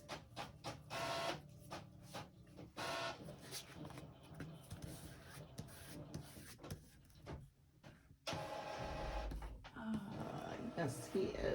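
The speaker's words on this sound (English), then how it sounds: "Apparently my son is printing something." A home printer running through a page, with mechanical whirring, feeding clicks and shuffling paper movement close by, while people talk intermittently over it.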